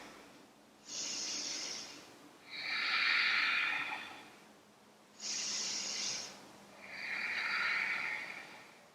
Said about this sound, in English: 3 rounds of breath here